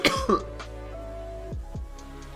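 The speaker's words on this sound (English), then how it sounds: "Sorry if I coughed into the mic" A man coughs and clears his throat right into a close microphone, two sharp loud bursts at the start, followed by a steady low hum from a live day-trading stream.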